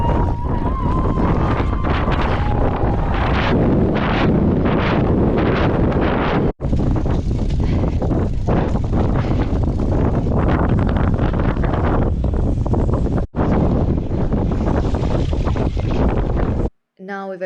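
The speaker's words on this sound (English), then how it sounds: "you can just hear how ridiculously windy this was" Strong wind on a beach buffets the microphone during a muddy gravel bike race, a constant loud roaring rush with brief dropouts, with speech faintly under it.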